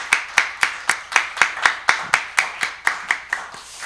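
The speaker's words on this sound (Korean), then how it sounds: "다시 감사의 박수를 부탁드리겠습니다" Distinct, evenly spaced hand claps at a steady rhythm, about a dozen and a half in a row, come from a congregation at a Korean Sunday worship service, fairly close and with no talking.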